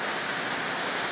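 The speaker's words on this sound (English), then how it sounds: "We're here at this beautiful waterfall in Bali." A waterfall in Bali roars as a steady, loud, broadband rush of falling water, continuous and unbroken throughout.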